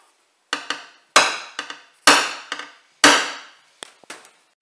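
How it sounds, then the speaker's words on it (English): Seven sharp metallic hammer strikes on a centre punch, marking a hole for fitting a rear spoiler to a Nissan Navara NP300 pickup, at an uneven pace, each ringing out briefly before the next, close and loud with no talking. "give him a little centre punch"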